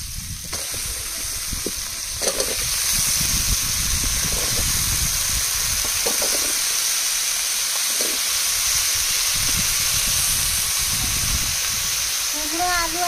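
Pieces of crab sizzle and fry with chopped pumpkin and potato in a pan, a steady loud hiss running throughout, with occasional stirring knocks and a voice faintly heard underneath.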